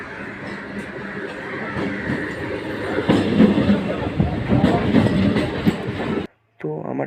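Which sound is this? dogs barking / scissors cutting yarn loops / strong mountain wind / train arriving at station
train arriving at station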